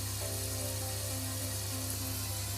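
Chopped onions for chicken malai simmer under a lid in a pan, giving a steady, quiet sizzle with a soft low hum running through it.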